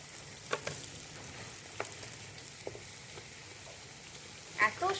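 Bread pakoras fry quietly in oil with a soft, low sizzle, a few light taps and clicks of a utensil, and a brief clatter near the end as they are lifted out.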